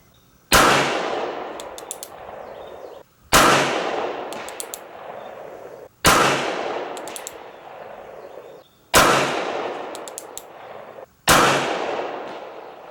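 Five loud, sharp shots from a Standard Mfg. single action revolver firing .44 Special at an outdoor range, spaced about two and a half seconds apart, each with a long ringing decay and no talking.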